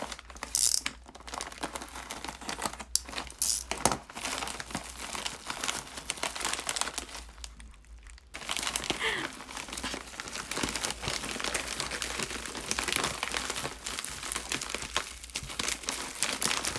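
Crinkly plastic packaging of stationery and decorating items being torn open and handled, with dense crumpling and rustling throughout, a few sharp tearing bursts and a brief pause partway, close and fairly loud with no talk.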